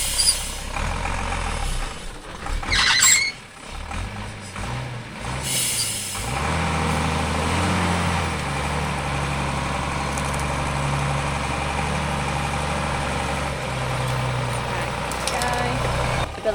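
A Unimog truck drives slowly along a narrow power-line maintenance track, its diesel engine rumbling steadily at idle and low speed, close by, with a hiss of air brakes early on and voices talking over it.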